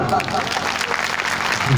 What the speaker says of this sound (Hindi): एक बार अनुच्छेद नंबर 13 के नाम जोरदार ताली।